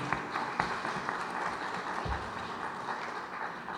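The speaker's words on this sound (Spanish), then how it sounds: "pido un fuerte aplauso" A dense, continuous wash of clapping from a crowd at a book presentation fills the space steadily, with occasional louder claps standing out.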